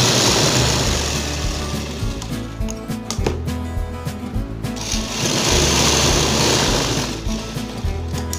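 A sewing machine stitching a cloth face mask, running loud and close in steady rapid mechanical bursts with brief pauses and restarts.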